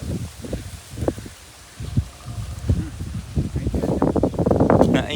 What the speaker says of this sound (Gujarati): હા હા પવન ઈ આવ્યો જબરદસ્ત